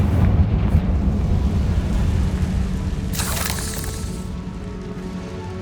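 A Confringo fire spell explodes in Hogwarts Legacy, heard as a deep, sustained rumbling roar with a sharp crackling burst about three seconds in before the sound fades out.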